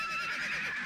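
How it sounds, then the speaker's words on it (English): Horse whinnying in one short, shrill, continuous call, close and loud, in an animated science-fiction western setting. "Saddle up a pair of fast horses."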